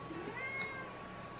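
A cat gives a single short, clear meow indoors at close range, with no talking over it.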